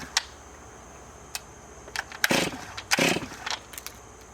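A Stihl chainsaw, fuel-injected with no choke, is pull-started: several sharp recoil-cord yanks, each a brief rasping burst, with a few short sputters between pulls and no sustained running.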